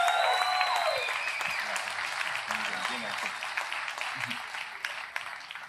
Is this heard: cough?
no